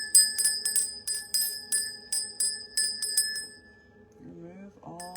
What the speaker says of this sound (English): So I'm going to use the bell and cleanse this space.